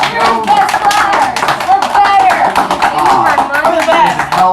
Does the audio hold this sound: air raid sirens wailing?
no